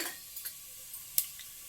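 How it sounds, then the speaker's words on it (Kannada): Mustard seeds and cumin crackle faintly in hot oil while making hotel-style kharabath, with a few sparse, quiet pops and ticks over a soft, steady sizzle. "ಹಾಗೆಯೇ ಒಂದು ಚಮಚ ಸಾಸಿವೆ ಕೂಡ ಹಾಕ್ತಾಯಿದ್ದೀನಿ ಹಾಗೆಯೇ ಜೀರಿಗೆ ಕೂಡ ಹಾಕ್ತಾಯಿದ್ದೀನಿ"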